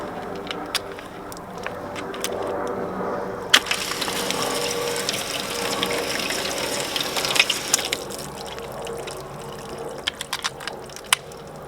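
Water from a hose floods a painted panel on a BMW M4, a steady splashing hiss that swells in the middle and tapers off, with occasional sharp drips and clicks.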